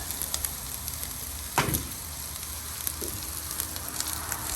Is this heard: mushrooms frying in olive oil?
yes